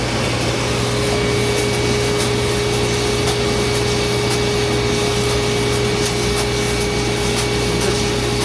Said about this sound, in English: down underneath the cooling chamber there, which sucks the majority of this air through the coffee to cool it down quickly